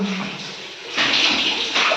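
Water is poured from a bucket in a rushing gush that fades briefly and then surges again, close and fairly loud, with no talk over it.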